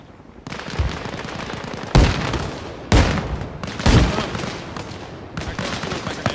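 Gunfire and grenade explosions in a Jeep simulator video game, a dense loud barrage with heavy booming blasts breaking through at intervals over continuous rattling fire.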